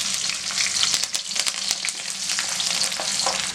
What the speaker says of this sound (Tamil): இப்போ பூண்டு போட்டுக்கலாம்.